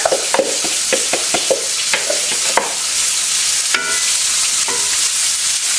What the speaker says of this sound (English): we're going to add onion, garlic, red pepper, and basil in here.